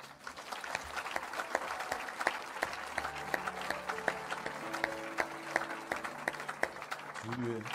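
A congregation at a charismatic worship and healing service claps and cheers, sharp individual claps over a low crowd murmur, with sustained musical tones rising beneath the applause and a voice entering near the end.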